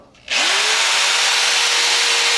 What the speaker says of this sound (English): we finally got all the spot welds drilled out, so this piece should just come right off